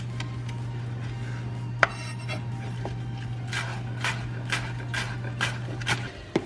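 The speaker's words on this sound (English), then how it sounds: "we're gonna go ahead and mix this up" Homemade dip with salt, pepper and minced chives being stirred in a bowl, giving soft scraping and clinking of a utensil against the dish in scattered taps over a steady low hum, with no talking.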